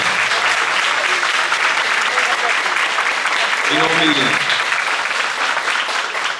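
An audience applauds throughout a university debate event, a dense steady wash of clapping with a brief voice rising over it midway.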